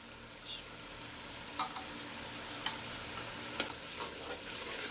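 Chana dal masala sizzling in a pan while being stirred, a steady soft frying hiss broken by a few sharp scraping clicks of the spoon against the pan.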